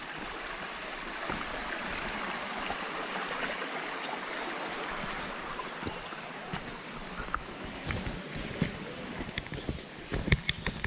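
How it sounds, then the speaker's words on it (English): A water stream on the Kudremukh trek in Karnataka rushes steadily over rocks, a broad continuous roar with a few clicks and knocks toward the end. "Water stream number 6."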